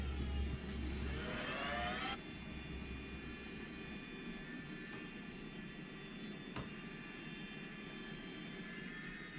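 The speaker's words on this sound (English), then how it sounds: "And it's on. All motors are running." Motors of a DJI Ryze Tello drone, recently dunked in salt water, whine up in a rising pitch for about two seconds, then cut back to a faint, steady hum.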